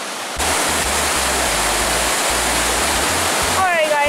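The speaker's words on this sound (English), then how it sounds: "right now we're at this waterfall" A loud, constant roar of rushing water from a waterfall close by in Plitvice Park, with a low rumble underneath and no speech.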